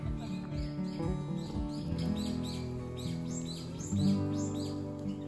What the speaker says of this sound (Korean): 아주 크고 맑은 새소리도 들립니다.